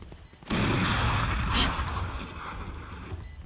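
A burst of gunfire from a pistol in the Valorant shooter game, starting abruptly and sustaining as a loud, dense rattle of shots before easing off slightly toward the end.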